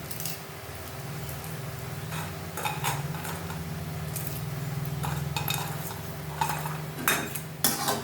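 A cooking pot of sag greens being stirred at home, giving steady scraping and clinking of a utensil against the metal, with a few sharper knocks near the end.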